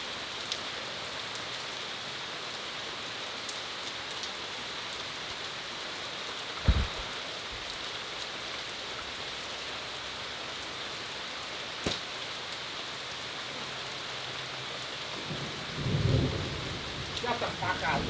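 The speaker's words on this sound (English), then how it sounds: "I know it's raining really hard." Heavy rain pours steadily during Hurricane Ida, a dense unbroken hiss of downpour with a few brief thumps and low rumbles rising near the end.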